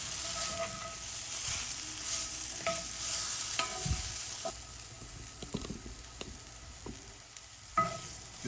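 Meatballs for burgers frying in a hot pan give a steady close sizzle, with stirring clatters and scraping as they are rolled around to brown.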